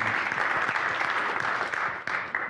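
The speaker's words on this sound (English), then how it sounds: "Keep clapping." A conference audience in Chicago claps steadily, dense applause at fairly close range and even loudness, trailing off slightly near the end with a brief dip and return.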